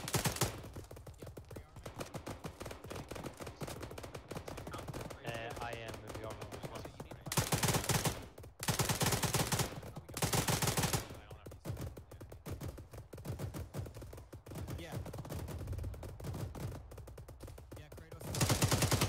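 Gunfire in Arma 3 rattles in repeated loud automatic bursts, with fast machine-gun strings separated by short pauses and scattered shots, while players talk intermittently over it.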